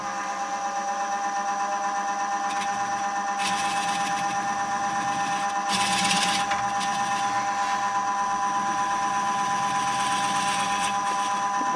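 A wood lathe with a hollowing rig hums steadily while cutting a wooden ball, with a constant motor whine and occasional brief bursts of scraping from the tool biting the wood, no talking.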